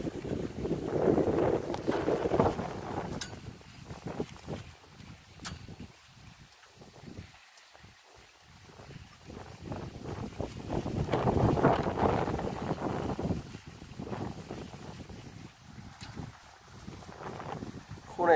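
Wind batters the microphone of an outdoor camera beside a fish pond, roaring in two strong gusts with a quieter lull between them, and faint voices talk underneath.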